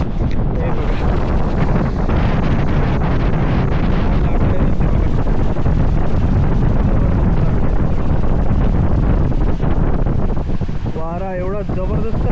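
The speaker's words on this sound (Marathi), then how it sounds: "वारा एवढा जबरदस्त आहे ना।" Strong monsoon wind buffets the microphone on the Vengurla seashore, a loud, constant roar mixed with crashing cyclone-driven waves, and a voice is briefly heard near the end.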